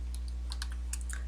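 Computer keyboard keys pressed in a quiet room, a few light, soft clicks in quick succession over a low steady hum.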